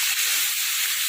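Pork meat and intestines frying together in hot oil, a dense, steady, loud sizzle with no pauses.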